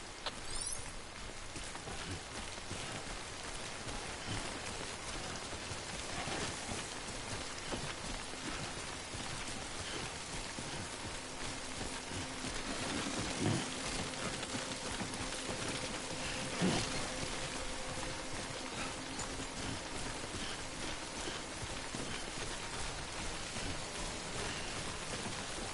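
Steady rain falls in the video game Death Stranding, a continuous even hiss with no talk and a couple of faint soft thumps partway through.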